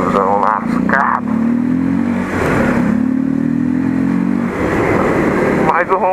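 A motorcycle ridden at night with no mirror and no air filter, its engine droning steadily and loudly close by, rising and falling a little, while a voice talks over it.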